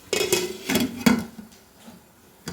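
A pan for fenugreek-leaf and sprouted green gram thoran is covered with a lid, heard as a cluster of ringing metallic clanks and clatters, then quieter taps and a final clink.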